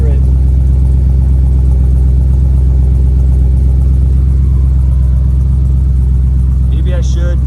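A 1968 Chevy big block V8 idles through MagnaFlow mufflers and tailpipes, a loud, steady, deep rumble held close and unchanging for the whole stretch.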